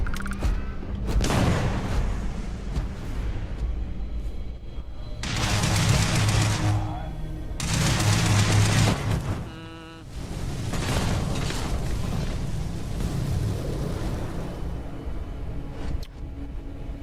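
A thrown frag grenade explodes among bursts of gunfire during a firefight in the sci-fi game Starfield, loud blasts and rattling shots running nearly continuously while voices talk over the combat.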